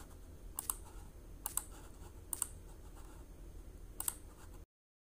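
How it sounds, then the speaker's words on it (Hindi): Typing WhatsApp Business into the Play Store search: four faint, sharp key taps, spaced about a second apart, in a quiet room before the sound cuts to silence. "उसके बाद आपने यहाँ पे टाइप करना है व्हाट्सएप बिजनेस।"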